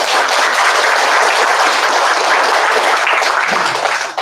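A congregation breaks into loud, continuous applause, a dense steady clatter of many hands filling the space without letup.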